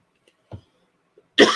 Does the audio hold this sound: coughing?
yes